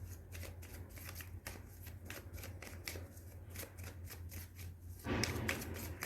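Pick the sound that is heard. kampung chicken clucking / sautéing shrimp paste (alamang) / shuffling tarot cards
shuffling tarot cards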